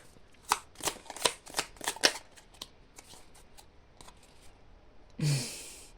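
Oracle cards are shuffled for a reading, giving a rapid run of crisp riffling snaps over about two seconds. A few lighter taps follow, then a soft breathy rustle near the end, all close up with no speech.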